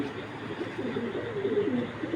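A pigeon coos softly in a low, rolling call, faint and somewhat distant against a quiet steady background.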